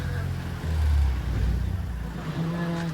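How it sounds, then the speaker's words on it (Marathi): A goods tempo van arriving at the site of a musical group's haldi show, its engine a steady low rumble that swells briefly and then settles, with faint background noise. "हा बघा सामानचा टेम्पो आत्ता आलाय"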